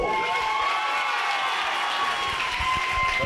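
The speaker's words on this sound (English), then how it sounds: "The crowd making some noise." A wrestling crowd at a tables-and-ladders match roars steadily and loudly, with shouts and claps mixed into the dense noise and an announcer's voice faintly underneath.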